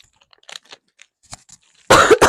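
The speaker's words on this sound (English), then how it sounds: "I just coughed into my microphone." A single loud, harsh cough lands close into a microphone after a stretch of faint crinkling and crunching snack-eating noises.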